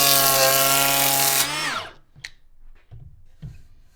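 Makita 18V XPK02Z cordless planer cutting wood, a loud, dense buzzing whir for about a second and a half that spins down and stops, followed by a few faint knocks and clicks.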